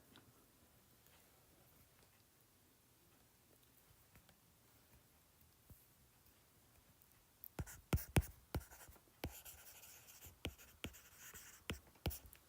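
Pen writing out an integration for a physics statics problem, quiet at first, then a run of sharp taps and scratches on paper in the second half, close and faint.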